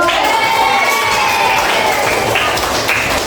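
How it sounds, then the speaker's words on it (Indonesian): Children clap and cheer together in a classroom, a loud, dense burst of applause and excited shouting that carries steadily throughout. "Tepuk tangan."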